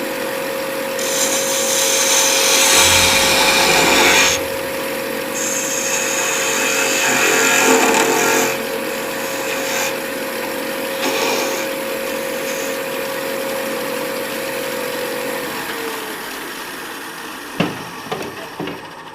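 A wood lathe spins a scoop handle while a tool shapes a domed bead, a steady motor hum with cutting swells at the start and middle, close and loud. The sound fades and ends in a few sharp knocks.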